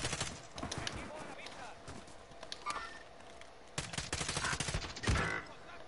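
In a Call of Duty Warzone duo match, bursts of gunfire crack and rattle in rapid clusters at moderate loudness, with a heavier blast near the end. Players talk over the shooting.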